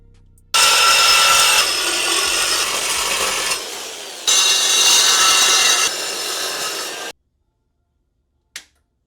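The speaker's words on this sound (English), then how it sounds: "I gotta measure this out and then cut where I need to cut and then weld it" Cutting exhaust pipe with a power tool while installing a resonator on a Honda CB7, two loud sustained grinding cuts separated by a brief pause, followed by silence and a small clink.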